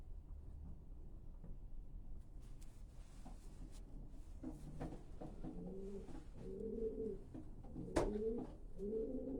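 Racing pigeons in a loft coo in soft, repeated throaty phrases that grow fuller toward the end, with a brief knock near the close and a quiet room hum underneath.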